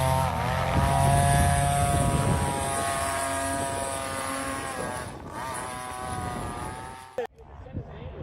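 A homemade plane's engine drones loudly and steadily as it takes off, its tone slowly shifting, with a voice speaking over it before the sound cuts off abruptly near the end.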